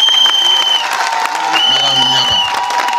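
A crowd claps and cheers for a speech at an outdoor neighborhood gathering, a loud continuous wash of applause with whistles and raised voices mixed in.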